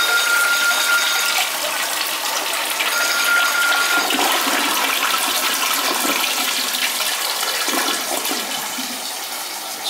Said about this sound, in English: Let's see how it flushes.